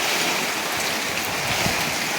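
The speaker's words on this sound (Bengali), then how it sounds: "আপনারা দেখতেই পাচ্ছেন এদিকে কত বৃষ্টি হচ্ছে দেখুন।" Heavy monsoon rain pours down at a construction site, a dense, steady hiss that fills the whole clip, loud and close, with no voices.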